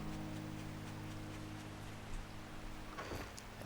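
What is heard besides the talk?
rain in the video game 7 Days to Die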